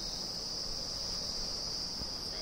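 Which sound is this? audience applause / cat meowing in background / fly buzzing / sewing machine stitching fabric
fly buzzing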